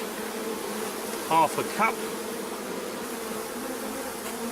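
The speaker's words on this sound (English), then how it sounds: "there's a bucket of bees" A steady low buzzing hum of many bees in a bucket fills the background, close and continuous, while a person speaks briefly over it.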